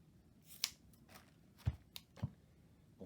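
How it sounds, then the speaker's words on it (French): Scissors snip through cast jersey stockinette at the fingertip end of a forearm cast, a few faint crisp cuts and rustles spaced apart in a quiet room. "Et juste à l'extrémité des doigts, on coupe."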